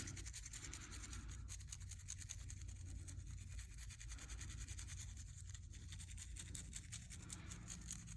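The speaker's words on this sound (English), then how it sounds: "I'm just using just a tad bit of soap and water and a toothbrush, and I'm just scrubbing it." A toothbrush scrubs a sterling silver ring with soap and water in rapid, steady back-and-forth strokes, close and quiet, continuing throughout without speech.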